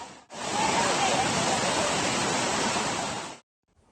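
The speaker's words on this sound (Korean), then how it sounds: "관광객들이 즐겨 찾는 인공폭포는 굉음을 내며 흙탕물을 쏟아냅니다." Muddy floodwater pours roaring over a tourist artificial waterfall during typhoon flooding, a loud steady broadband rush that starts abruptly, holds for about three seconds alone, then cuts off.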